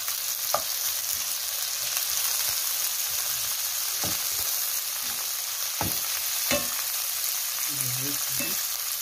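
Onion and pepper frying in a pan, a constant bright sizzle close up, with scattered stirring knocks and scrapes and a brief clatter near the end.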